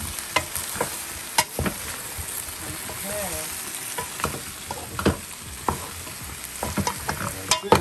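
Turkey necks brown in a pot with a steady sizzle, broken by repeated sharp clanks and scrapes of a utensil stirring at an irregular pace, close and fairly loud.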